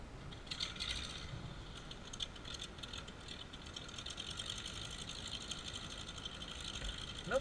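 A Junak 121FL machine starts up with a continuous mechanical clatter and whir of gears and moving parts, steady and fairly close throughout, with no talking.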